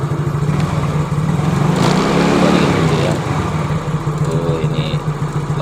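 A motorcycle engine, being checked for a weak battery-charging fault, idles and is revved, its throttle rising and falling in a loud, close drone while someone talks over it.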